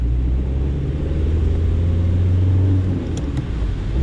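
A 1996 VW Polo with a 1.9 diesel of just over 60 horsepower pulls away from traffic lights in town, heard from inside as a loud, steady low engine rumble that eases off slightly toward the end.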